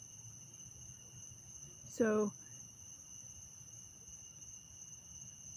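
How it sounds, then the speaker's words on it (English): Crickets chirp steadily outdoors at night, a faint continuous high trill under quiet background, with a brief spoken word from a nearby voice. "the crickets are great. But they're not fireflies."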